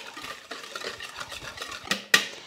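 Oil being mixed into brioche dough in a bowl, soft repetitive stirring and squelching with a couple of sharp clinks of a utensil against the bowl near the end.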